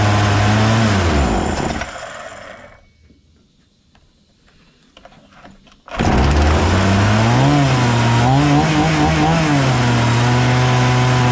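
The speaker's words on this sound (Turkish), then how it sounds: "Kendi kendisine rölantiyi düşüp stop ediyor." Husqvarna 236 chainsaw engine revving loudly with a wavering buzz, dropping off to near silence, then roaring back to a high, fluctuating rev; close and loud throughout, no speech.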